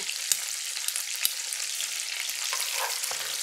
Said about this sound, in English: So we're just going to saute these for 3 or 4 minutes.